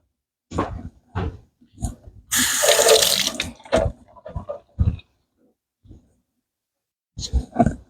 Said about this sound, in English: let's rinse this off and let's cut it up